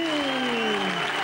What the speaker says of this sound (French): je vous demande d'applaudir le petit furet des Balkans